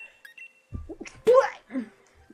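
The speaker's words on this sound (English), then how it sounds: "I guess it qualifies as a sneeze." A young woman's sneeze with allergies, a brief sharp burst near the middle between short breathy sounds and faint voice noises, close and fairly loud.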